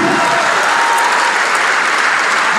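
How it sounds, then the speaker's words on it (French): A church congregation claps and cheers in praise, producing loud, continuous applause with a roar of voices, close and unbroken throughout. "put your hands together for the Lord and give the Lord a shout of praise"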